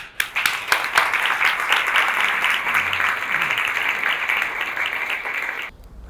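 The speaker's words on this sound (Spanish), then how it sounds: "Así es que vamos a escucharle un fuerte aplauso." Audience applause at a lecture in Cartagena, a steady dense roar of many hands clapping for about five and a half seconds before cutting off abruptly.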